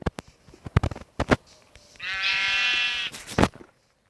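A sheep in Minecraft gives one clear, wavering bleat of about a second and a half, surrounded by sharp clicks and thumps of gameplay, with no talking.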